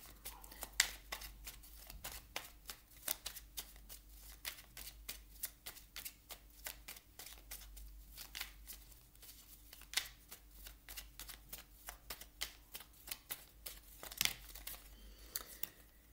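Oracle cards being shuffled for a Sagittarius reading, a steady run of crisp riffling and flicking bursts with faint crinkling, close and fairly quiet, with no talk.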